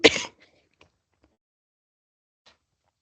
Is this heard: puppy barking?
no